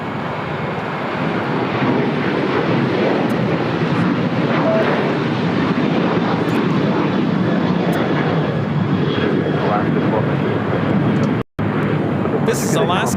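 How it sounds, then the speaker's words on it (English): Alaska Airlines Boeing 737-900ER jet taking off at LAX for Seattle, a loud, sustained broadband engine roar that stays steady and close throughout, with people talking over it and a brief dropout near the end. "This is Alaska Airlines 1219 taking off to Seattle on a 737-900ER."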